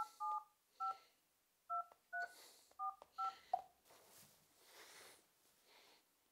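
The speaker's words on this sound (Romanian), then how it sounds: "dau un telefon" A telephone number is dialed on a keypad, a series of sharp two-tone beeps in quick irregular bursts, followed by faint rustling and handling noise.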